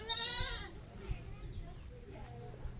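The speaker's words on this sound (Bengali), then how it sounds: "সব ছাগলের বাচ্চা এখানে" Young goat kids kept beside a village house bleat faintly, with one wavering cry at the start and softer calls later, under quiet background noise.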